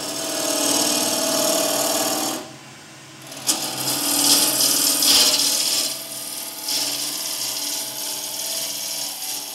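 A wood lathe turns a bowl blank while a tool cuts a tenon, giving a loud, steady, rasping scrape that drops off briefly, then resumes with uneven grinding.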